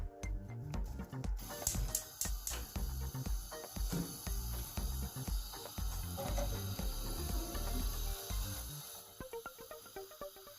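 A kitchen stove is lit to boil water, with a quick run of sharp ratcheting igniter clicks close by, then lighter clicks and a soft hiss fading out.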